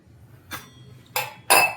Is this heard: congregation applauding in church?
no